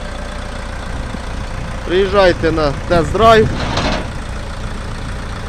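A Jinma 404 tractor engine idles steadily at close range while the front axle is engaged, a low mechanical rumble running under a burst of speech in the middle.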